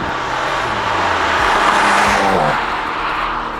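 A 2019 BMW M2 Competition's engine and exhaust drone loudly nearby, the pitch rising and falling as the revs shift.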